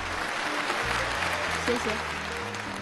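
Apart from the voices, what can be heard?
audience applause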